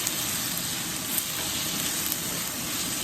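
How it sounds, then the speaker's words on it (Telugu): Small cut pieces of paneer frying and being stirred in a pan, a steady close hiss and sizzle of hot oil with faint scraping throughout, no talk. "అంత చిన్నగా కట్ చేసి పెట్టుకున్న పన్నీర్ వేసేద్దాం. కలిపేద్దాం"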